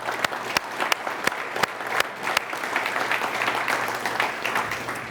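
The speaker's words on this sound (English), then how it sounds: "That deserves a round of applause too." An audience at a State of the City address applauds steadily, with a few sharp, close claps standing out against the dense, even roar and a low steady hum underneath.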